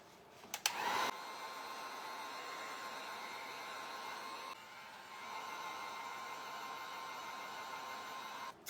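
A hair dryer runs on mixed media art, a steady loud whooshing blow after a brief click and start, holding for several seconds with a slight shift in pitch midway.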